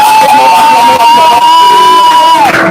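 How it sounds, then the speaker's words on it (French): A large crowd at a church conference in Cameroon cheers loudly and without a break, a dense wall of voices under a sustained ringing tone. "Et nous acclamons plus fort pour le roi."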